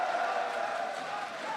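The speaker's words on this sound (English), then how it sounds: "A big applause for Warlock and Moss and the French crowd, excited as always" Crowd applauding and cheering at the 2015 League of Legends World Championship in France, a steady wash of clapping and voices filling the hall for the whole stretch, loud and continuous without a break.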